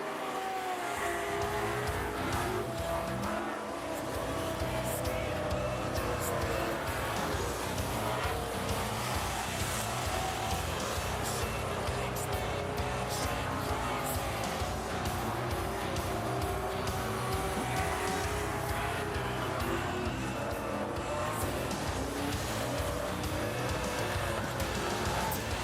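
Race cars roar continuously around the Rockhampton Speedway dirt track at an AMCA meeting, engines revving and passing in a dense, loud wash of motor noise with no pauses.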